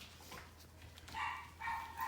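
A dog gives soft, high whimpers and whines, faint and close, a few drawn-out cries over quiet background.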